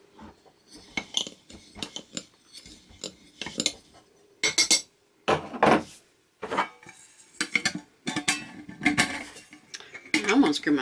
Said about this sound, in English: I'm gonna screw my lid on.